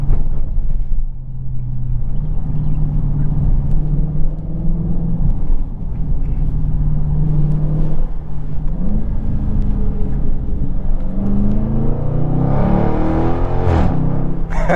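Dodge Charger Scat Pack V8 muscle car rumbling loudly at close range from the cabin, a deep steady engine drone with rough pops and crackles toward the end as the throttle is worked.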